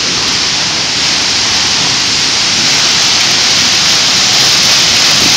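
Deer Creek Falls pours with a loud, steady, close-up roar of rushing water, a constant broadband wash with no pauses and no voices.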